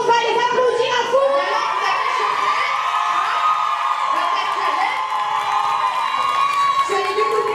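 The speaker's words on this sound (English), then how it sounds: "on va les applaudir à fond." A live audience at a panel cheers and whoops for actors on stage, children's shouts and excited voices rising over a steady crowd roar that holds loud throughout.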